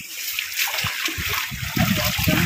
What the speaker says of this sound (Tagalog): lumalakas ng higop ng tubig.